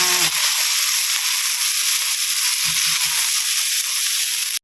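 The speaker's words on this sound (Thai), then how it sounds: "เราก็นำน้ำพริกที่เราโขลกเมื่อกี้นะคะลงไปผัดให้หอมเลยค่ะ" Pounded chili paste stir-frying in a pan for a Thai snakehead fish curry, a steady close sizzle and hiss running without pause, with a few soft low knocks of stirring partway through.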